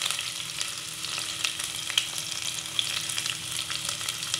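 Garlic sizzling in a hot pan for liver adobo, a steady bright frying crackle with a few sharper pops and some stirring, heard alone.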